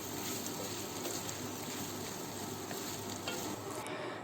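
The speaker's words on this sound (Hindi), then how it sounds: "जस्ट मैं इसे 1 मिनट जो है अंडों को भून लेती हूँ" Eggs fry in a hot pan with vegetables for fried rice, giving a steady, loud sizzle with scraping and stirring throughout and no talking.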